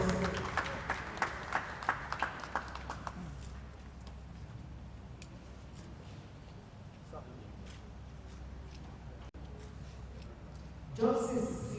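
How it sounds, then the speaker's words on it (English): Applause at a ceremony where names are read out: a few seconds of scattered, crisp clapping that quickly thins and fades into quiet room noise, with a brief sound returning near the end. "It's a round of applause."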